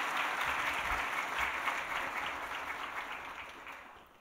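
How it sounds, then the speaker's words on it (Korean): Steady applause from a church congregation fills the room during a worship service, moderately loud clapping that slowly fades over a few seconds. "박수로 한번 격려하겠습니다."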